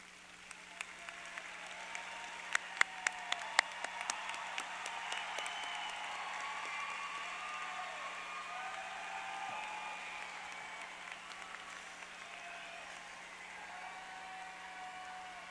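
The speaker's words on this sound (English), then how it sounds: "stand, find your families, and applaud them for all they did to get you here today" Graduates at a high school commencement clap for their families. It opens with a few sharp, scattered claps and then swells into broad, steady applause across a large hall or arena, with a low hum underneath.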